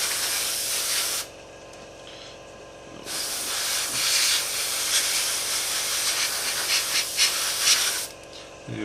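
A double-action airbrush blows air over a Tamiya 1/32 Spitfire model, loud close hissing that cuts off briefly near the start, then sprays steadily with small fluctuations and stops near the end.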